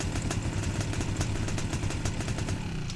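A hot-wired motorcycle in a video game idles steadily, its loud, close engine putting out an even run of low chugging pulses with a rhythmic mechanical clatter throughout.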